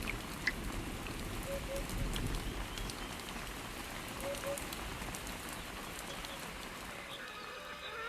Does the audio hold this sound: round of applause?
no